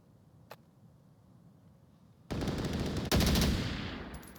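Gunfire in the VR shooter Onward during a competitive match, a faint early pop followed by two loud bursts of rapid automatic fire that fade off, heard alone without talk.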